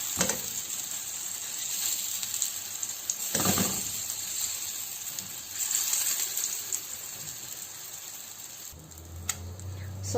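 Italian sausages browning in a hot skillet give off a steady, close sizzle and crackle that runs without a break, with a few brief louder spits of fat and no talking over it.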